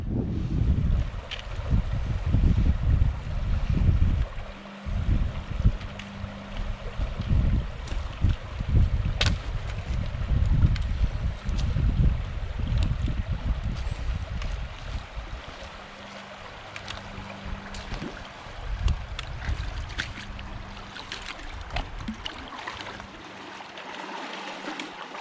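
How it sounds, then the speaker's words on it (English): Water flows at the Borden Creek crossing in the Sipsey Wilderness, a steady rushing babble close by. Gusts of wind and occasional low knocks and rustles come and go over it, with no talking. "This is the crossing of Borden Creek, and there's the trail on the other side."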